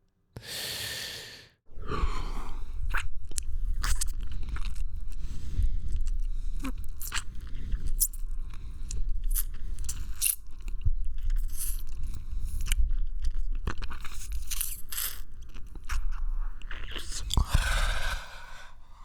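Vampire biting and feeding as an ASMR sound effect: close, wet slurping, sucking and soft crunching with heavy breathing and sighs, running continuously between short breathy whispers at the start and end.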